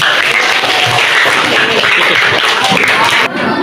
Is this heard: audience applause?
yes